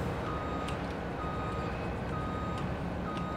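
Reversing beeps from a farm vehicle in Farming Simulator 22, a regular repeating electronic tone over a steady engine drone, moderately quiet and without talk.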